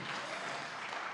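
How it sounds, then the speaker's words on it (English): Applause from a comedy club audience at a stand-up show in a brief, steady wash of clapping with no voices over it. "give D a round of applause"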